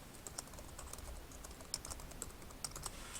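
Quiet typing on a computer keyboard while coding an HTML page, a steady run of soft key clicks with a few sharper taps, heard alone without talk.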